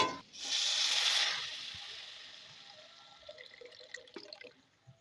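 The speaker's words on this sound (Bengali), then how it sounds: "এবার এর মধ্যে দিয়ে দেবো পরিমাণ মতো জল" Water poured into cooked spice masala in a pan for a fish curry, a brief splashing pour near the start that fades into quiet, faint trickles and small drips.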